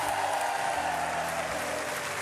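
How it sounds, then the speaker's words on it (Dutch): A studio audience on a Dutch TV show applauds steadily as a guest arrives, a dense, continuous crowd clapping throughout. "Geef maar een applaus, Jan Smit!"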